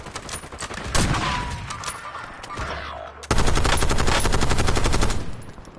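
Sniper gunfire in the shooter game Warzone on Rebirth Island, rapid bursts of loud shots, a short break, then a long sustained volley near and harsh until it cuts off.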